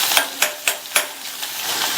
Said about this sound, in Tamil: இப்போ இந்த வெங்காயத்தை லைட்டாக ஒரு 1/2 நிமிஷத்துக்கு மட்டும் வதக்கி விட்டுக்கலாம்